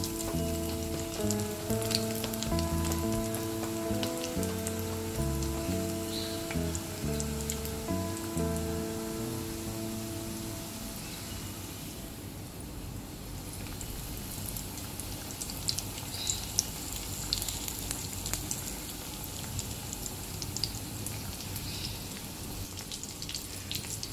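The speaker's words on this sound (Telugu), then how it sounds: "ఇప్పుడు అందులో డీప్ ఫ్రై చేసుకోవాలి ఈ వంకాయల్ని." Brinjals deep frying in hot oil in a kadai, a soft continuous bubbling crackle like light rain, faint and steady throughout, with music playing over the first half.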